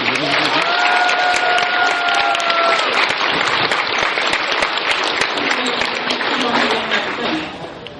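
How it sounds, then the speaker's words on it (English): Dense audience applause fills an anime convention awards ceremony, steady and loud throughout with scattered whoops, a brief whistle-like tone early on and voices mixed in, tapering off at the end. "Round of applause!"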